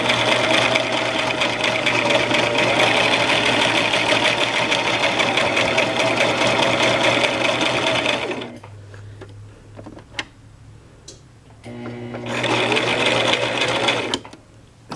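A Brother LX 3817 sewing machine stitches through thick fabric, running forward and reverse with a loud, close, steady mechanical whir that stops briefly, leaving a few faint clicks, then starts again.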